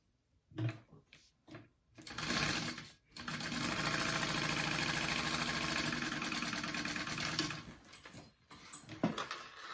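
A sewing machine basting a handbag panel closed, running in a long steady whir after a few short bursts, loud and close with no talking.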